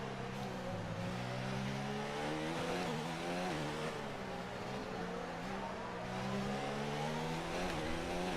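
Formula 1 race car in the F1 2019 video game: a continuous high-revving engine whine rising and falling through gear shifts, loud and close, with no talk.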